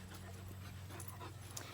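Soft, quick panting from a happy dog outdoors, faint and steady over a low background hum.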